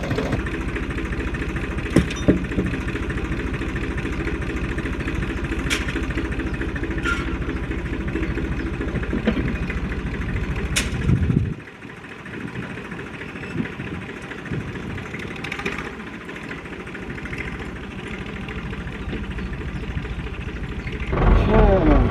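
An old Fordson Dexta tractor engine running at a steady chugging idle, cutting out about halfway, followed by a quieter stretch and then loud engine noise again at the end, with some voice in between.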